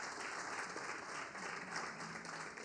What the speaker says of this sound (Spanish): Vamos, dele fuerte palmas a Dios.